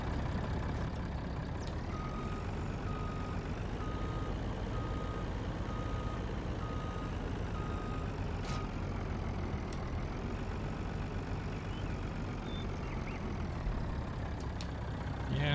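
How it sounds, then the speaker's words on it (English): Heavy truck engine in Farming Simulator 19, driving steadily over rough ground at Black Mountain Montana, a continuous loud low rumble with a faint intermittent beeping throughout. "Maybe this truck wasn't the best idea."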